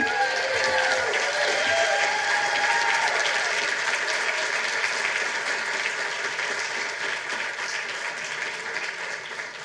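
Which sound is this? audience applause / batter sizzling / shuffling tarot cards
audience applause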